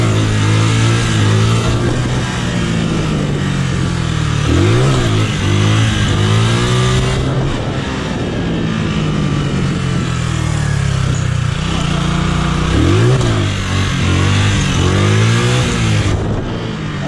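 A small motorcycle at a riding practice session revs its engine repeatedly, the pitch climbing and dropping in loud surges over a steady idle, close to the listener.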